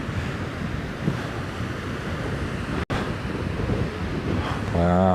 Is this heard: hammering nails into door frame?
no